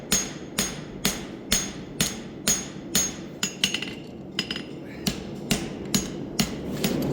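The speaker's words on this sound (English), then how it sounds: "And then come out here on the heel of my anvil. Run it up a little bit." Hammer blows on a bar shoe at the heel of an anvil ring out in a steady, evenly spaced rhythm, about a dozen sharp metallic strikes close by, with no talking.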